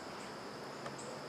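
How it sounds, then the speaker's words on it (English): Dense, steady hum of honeybees buzzing around their hives, tens of thousands of bees close by, a continuous droning swarm with no talk. "So these are my bees."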